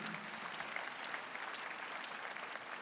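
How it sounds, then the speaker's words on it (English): Church congregation clapping for Jesus after a prayer, a steady wash of many hands kept fairly quiet and even throughout, with no voices standing out. "Let's clap for Jesus one more time."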